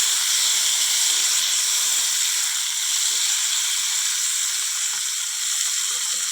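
Green chili and chopped tomato fry in a pan with a steady, loud, close sizzle and hiss that holds evenly throughout, with no voices.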